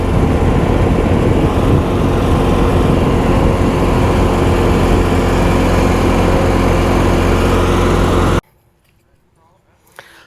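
An Allis Chalmers 620 tractor engine runs at a tractor show with a loud, steady, close drone for about eight seconds, then cuts off abruptly into near quiet.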